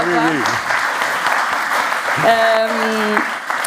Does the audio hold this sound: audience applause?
yes